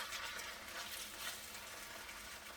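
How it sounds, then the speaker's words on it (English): Hot water cornbread batter frying in a pan makes a steady, close hiss of sizzling oil that runs evenly throughout without speech. "And let it start to fry."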